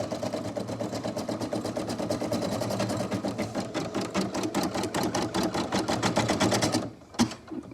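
An embroidery machine stitching out a design on a baby blanket, a rapid, even pulsing chatter of the needle close by for about seven seconds before it stops with a couple of clunks.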